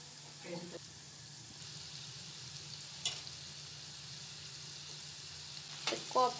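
Flour-coated chicken pieces go into hot oil in a pan, giving a steady low frying hiss with a few sharp clicks and clatters and a brief voice in the background.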